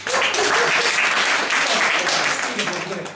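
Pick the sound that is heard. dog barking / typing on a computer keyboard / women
women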